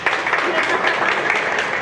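Audience applause at a motivational seminar, a brief burst of dense, fairly loud clapping from a roomful of people, steady throughout and ending abruptly.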